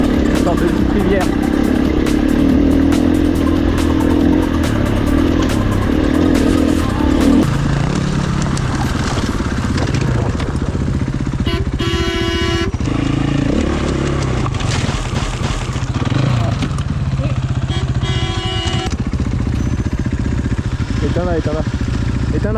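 A motorcycle engine runs steadily nearby on a rough Moroccan desert track, rumbling and idling with some revving, while people talk over it.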